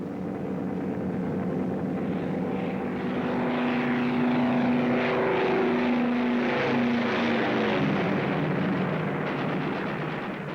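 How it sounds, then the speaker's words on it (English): World War II bomber formation approaching its target, with a loud, steady, droning roar of many propeller engines throbbing and shifting in pitch throughout, with no voices. "The bombers are approaching the target."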